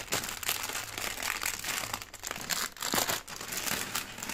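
A plastic-wrapped snack packet is crinkled and torn open by hand, giving continuous close crackling and rustling with a few sharper rips, no talk over it.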